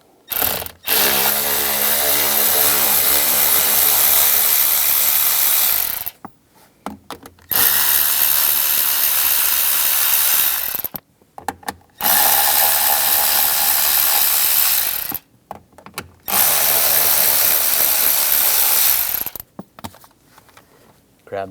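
Screws beneath the steering column of a 2008-2017 Buick Enclave are loosened with a ratchet and 7mm socket, making four loud, close bursts of rapid ratchet clicking separated by short pauses.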